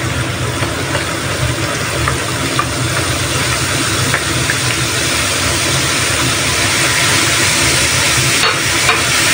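Chili sizzling in hot garlic oil, a steady dense frying hiss with soft crackle running unbroken and fairly loud throughout, no voices.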